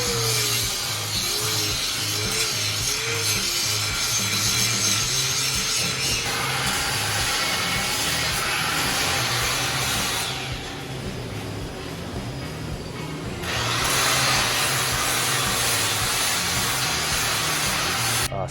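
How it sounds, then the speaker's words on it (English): A 3M disc grinds a metal bend test coupon flat, producing a steady, close abrasive rasp with rhythmic rubbing strokes and a brief lighter pass partway through, no talking. "we want to hold that on there on that flat edge to get a nice, even, flat grind"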